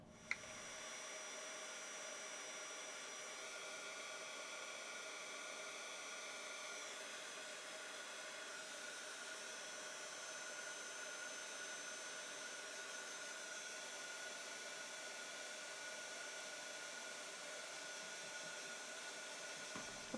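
Continuous close whooshing hiss of a heat tool melting embossing powder on a Halloween shaker card, running unbroken and even for the whole stretch.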